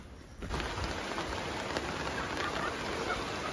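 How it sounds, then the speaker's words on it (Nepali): Heavy rain pours down steadily in a rural village, a dense, continuous wash of drumming water that swells in loudness after a brief quieter start and stays even throughout. "खतरा पानी पर्यो"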